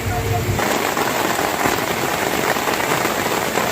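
Heavy rain pours steadily at Jwaleshwar temple in Amarkantak, a dense, close, unbroken hiss of drops on surfaces lasting the whole few seconds.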